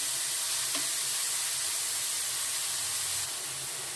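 Eggplant sizzles in a hot wok, a steady bright hiss of frying that stays constant, close and fairly loud, with no voices.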